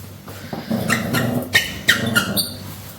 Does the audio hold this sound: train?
no